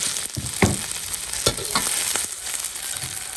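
Garlic and chili stir-frying in a wok for a dish of fermented black beans give a continuous loud sizzle, broken by a few sharp scraping clacks of the spatula as the ingredients are tossed.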